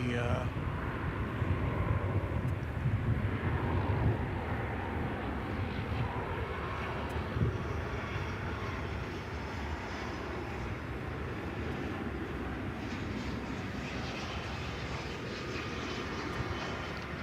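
Qatar Airways jet airliner on a nighttime flight to Doha near DFW Airport, a faint, distant, steady engine rumble that fades slowly throughout.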